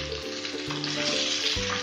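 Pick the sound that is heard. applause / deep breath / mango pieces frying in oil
mango pieces frying in oil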